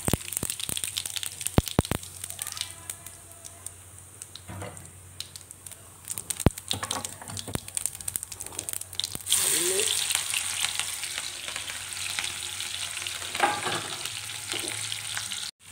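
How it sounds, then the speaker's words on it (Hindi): Cumin seeds crackle and sizzle in hot oil in a home kitchen while festival dishes for Kanya Pujan are cooked, a steady close hiss with a few sharp clicks that grows louder and denser about halfway through. "तेल अच्छे से गर्म हो गया है, तो इसमें हम थोड़ा जीरा डाल देते हैं।"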